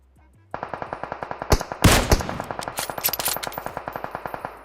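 Automatic gunfire in the mobile game PUBG Mobile, a long rapid spray of evenly spaced shots starting after a brief quiet moment, with a louder burst of blasts near the start of the volley.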